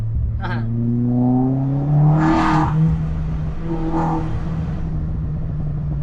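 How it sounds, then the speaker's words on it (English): An Opel Corsa OPC hot hatch engine hums steadily with rising whines as it accelerates, a close, continuous drone, with people talking now and then over it. "as you guys can hear, the car sounds really good"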